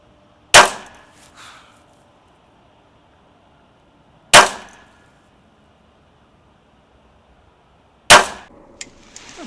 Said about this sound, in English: we're just going to shoot this 3-shot group